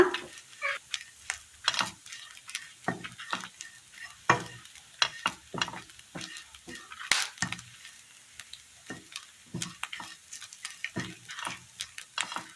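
Dried red chillies and curry leaves fry in oil with coconut in a Kerala curry, a soft crackling sizzle punctuated by irregular spoon scrapes and taps, close but fairly quiet, with no voices.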